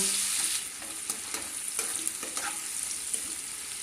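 Chopped onion frying in hot oil to make crisp fried onions for egg biryani: a close, continuous sizzle with occasional stirring scrapes and no talk.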